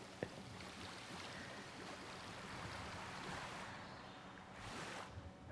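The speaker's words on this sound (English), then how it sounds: "Little stream there." Stream water flows in the Jurassic World Evolution 3 video game, a soft continuous rushing and splashing wash that stays faint and steady, with no voices over it.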